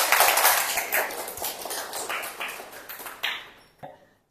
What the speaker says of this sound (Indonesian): Beri tepuk tangan dulu buat teman-teman kita yang berani menjawab.